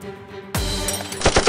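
A toy Nerf gun fires during a staged police-versus-criminal fight scene: a sudden loud burst of shots, then a quick rapid string of sharp pops close by, with no talking.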